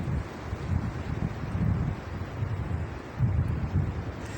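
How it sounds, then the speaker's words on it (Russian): Strong, gusty stormy wind buffets the microphone outdoors in spring birch woods, surging in rough low roaring waves with no voices. "ветер просто задувает очень сильно все"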